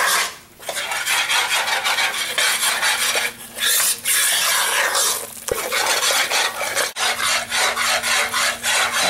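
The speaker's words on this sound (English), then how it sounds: "it's been 4 minutes of stirring" A Cajun roux of flour and oil is stirred steadily in a pot, a continuous close scraping and rubbing of the spoon around the bottom with only brief pauses.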